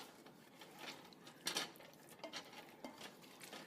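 Prawns toss in a hot pan over a medium-high flame for a coconut curry, quiet sizzling broken by a few sharper clinks and scrapes of metal as they are moved around.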